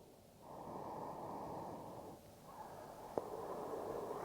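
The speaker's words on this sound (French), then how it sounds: "Une dernière respiration." A slow, deep breath during a morning yoga routine for the shoulders and upper body, a long soft inhale and then an exhale, quiet and close with faint background hiss.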